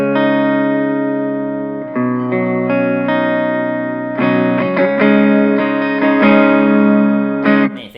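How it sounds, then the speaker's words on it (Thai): Clean, undistorted electric guitar from a Les Paul Special played through a Fender Blues Junior amp, sustained chords and single notes ringing steadily and close for the whole stretch, with no voice. "เสียงคลีนก็ประมาณนี้นะ"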